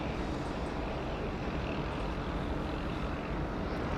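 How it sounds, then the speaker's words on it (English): A Jetstar airliner taxis along taxiway Tango 6 at Sydney Airport, heard as a steady, distant broadband engine rumble and hiss that stays constant throughout with no voices. "So we got that Jetstar now on Tango 6 out the back."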